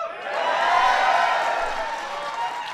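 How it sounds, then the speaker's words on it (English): Audience applause at the White House during an event honoring the Seattle Seahawks, a sustained wash of many hands clapping with faint cheering, swelling slightly and then holding steady for the whole stretch. "I knew you guys would clap on that one."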